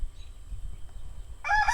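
Chickens in a backyard coop shared with young chicks and ducks, with a loud rooster crow or squawk bursting in near the end after quiet background.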